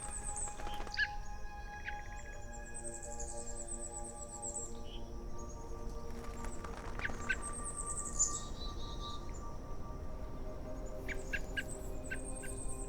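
A small black-capped chickadee songbird gives clear whistled and chirping calls in a quiet natural setting, a few high notes spaced over the span with faint background hiss.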